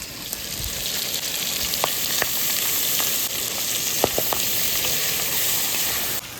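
Cumin seeds and bay leaves sizzle steadily in hot oil in a home kitchen, a dense close hiss broken by a few sharp pops and light spatula scrapes.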